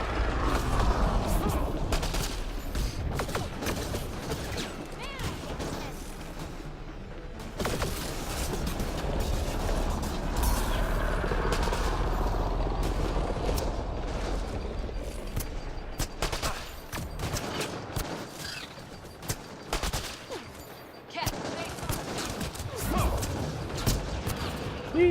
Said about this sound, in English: I'm getting shot at by a lot of things, and it's scaring me.